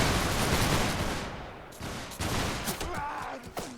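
Line infantry fire a musket volley in Mount & Blade: Warband, set in the 1776 American Revolution. One big crackling roar rolls out and fades, then scattered later shots and battle noise follow.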